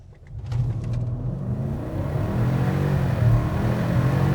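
A Mercedes GL 550 SUV engine rises from a low rumble into a steady acceleration from a start, its drone growing louder and climbing gradually in pitch over a few seconds.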